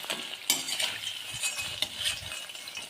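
Malpua pancakes of milk and semolina batter frying in a pan, a steady close sizzle with scraping and stirring clatter, no voices.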